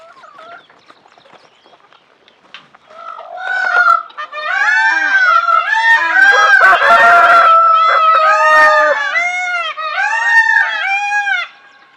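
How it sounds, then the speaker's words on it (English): Peacocks in breeding season call loudly and repeatedly nearby, a string of overlapping honking, wailing cries from several birds that starts after a quiet moment and continues for about eight seconds. "peacocks. It's breeding season, so they're very vocal."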